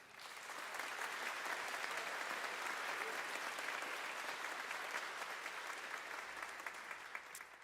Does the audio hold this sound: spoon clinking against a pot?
no